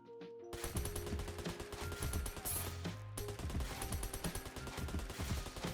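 Defensive turrets in Puropu Defense Squad fire continuously in rapid bursts, a dense rattling stream of shots with brief electronic tones and a short pause near the middle, steady and fairly loud throughout.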